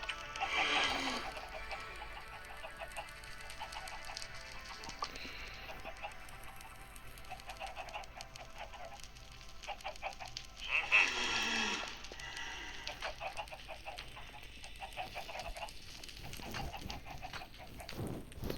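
Occasional chicken clucks amid a quiet, hollow Minecraft game ambience, with a couple of louder squawking bursts standing out near the start and middle.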